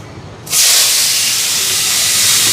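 Potatoes, beans, pointed gourd and capsicum hit a hot wok, erupting after a short quiet lead-in into a loud, continuous, close hiss of frying.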